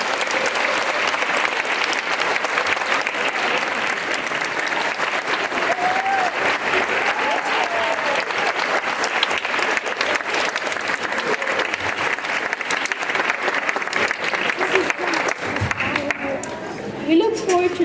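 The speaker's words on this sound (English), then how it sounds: "Let's stand up and give them a big round of applause." Sustained audience applause honoring teachers at an ICS Addis school event, a dense, steady wash of clapping lasting throughout and thinning slightly near the end.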